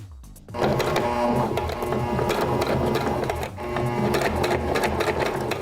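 A sewing machine stitches a ponytail and three-quarter wig combo piece, running in a loud, steady close-up whir for several seconds after a brief start, with one short dip midway.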